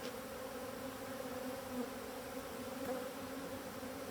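A dense, steady hum of many honeybees buzzing together inside an opened hive, close and continuous, with no voices.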